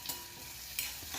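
Onions and finely chopped tomato being stirred as they fry in a pan for mutton bheja fry, with a steady low sizzle and a couple of brief scraping stirs.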